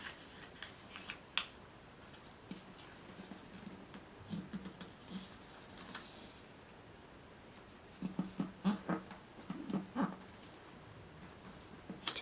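Origami paper being folded for a pig face finger puppet, faint close rustles and crisp creasing clicks, sparse at first, then a busier cluster of handling noises toward the end in a quiet room.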